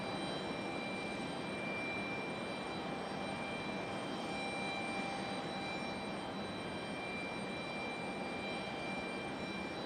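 An Endeavor Air jet airliner readies for departure to DCA at Raleigh-Durham International on a stormy day, its engines producing a steady, moderate roar that holds evenly throughout with faint tonal whines above.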